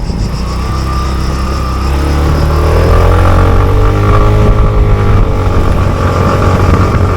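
Steady close-up Yamaha XMAX motor scooter engine humming and rising in pitch as it accelerates through Trogir, Croatia, loud and continuous with no talking.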